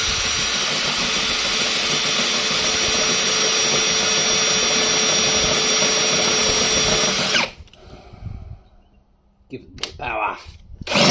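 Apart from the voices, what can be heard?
power drill drilling holes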